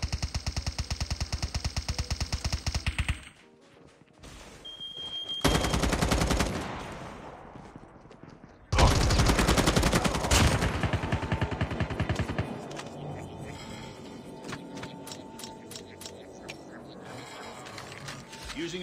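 Bursts of automatic gunfire aimed at zombies in Call of Duty Mobile battle royale with an M4, rapid repeated shots in loud volleys separated by short pauses and game effects.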